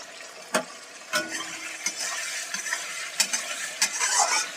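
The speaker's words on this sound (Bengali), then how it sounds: "একটু নেড়ে চেড়ে নিচ্ছি" Tomatoes with salt and red chilli are stirred in a hot pan, a spatula scraping in irregular strokes over a soft, steady sizzle with no talking.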